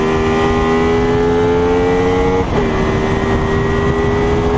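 A small-displacement V-twin motorcycle engine, an SXV, screams steadily at very high revs toward 12,500 RPM, holding a tight whining pitch with a brief dip mid-way before climbing again, loud and close with no voices.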